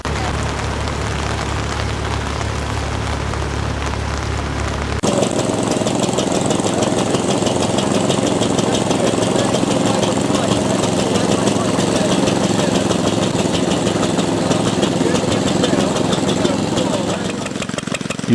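Vintage stationary engines run at an outdoor show in the rain, a loud, steady mechanical chugging that begins abruptly after a few seconds and continues throughout, with rain hiss and a busy background.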